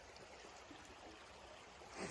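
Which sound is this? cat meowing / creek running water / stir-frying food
creek running water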